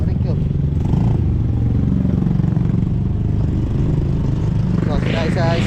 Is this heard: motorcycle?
yes